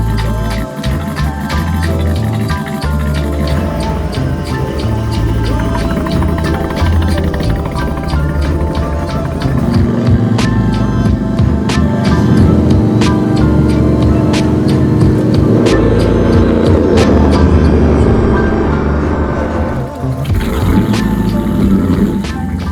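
A 1951 Ford coupe is driven, its engine a steady loud rumble with shifting mechanical and road noise that swells in the middle and continues throughout without speech.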